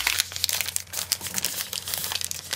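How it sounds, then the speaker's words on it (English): Newspaper crinkles and rustles as it is folded in at the bottom of a homemade garden planter pot, a close, continuous crumpling with no voice over it. "And then on the bottom, you're just folding it in."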